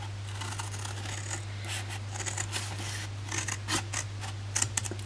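Scissors snipping through card stock for a shaker-lid gift box, a run of short crisp cuts near and close, growing busier toward the end over a steady low electrical hum.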